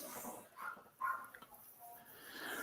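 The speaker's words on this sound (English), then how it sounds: "you can hear the neighbor's dog just yapping away" A neighbor's small dog yapping away in the distance, a few faint barks and yips that carry faintly through a room during a live drawing session, with little else heard.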